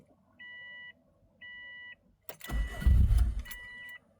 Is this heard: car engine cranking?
yes